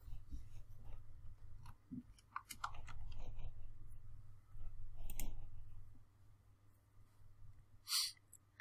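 Computer mouse clicks while entering cryptocurrency wallet inputs, a few faint scattered taps and one sharper click near the end over a low room hum.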